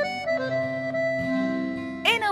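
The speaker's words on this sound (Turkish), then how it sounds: "Bu bir akordeon. Akordeonlar böyle ses çıkarır." An accordion, a keyboard instrument with bellows, plays sustained chord tones alone, holding steady notes with a brighter, louder swell near the end.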